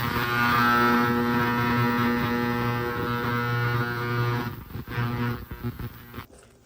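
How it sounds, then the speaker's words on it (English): An ultrasonic cleaner running with Yamaha Timberwolf ATV parts inside, giving a loud steady tonal hum that turns choppy and uneven near the end before cutting off. "We're ready to throw it in the ultrasonic cleaner."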